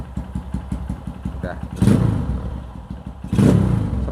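A carbureted motorcycle engine idles with a fast, even putter, then revs twice in loud, close bursts after a GP7 power cable is fitted; a voice briefly speaks over it.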